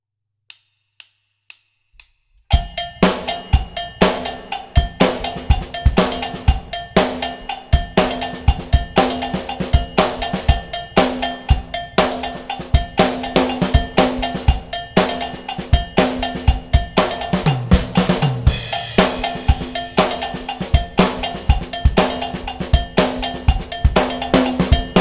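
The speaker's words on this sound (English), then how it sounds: "you'll hear certain parts where the cowbells really complement each other" A few sparse taps open a full drum groove built around cowbell patterns, with bright cowbell hits interlocking over kick, snare and cymbals in a busy, steady rhythm for over twenty seconds, loud and close.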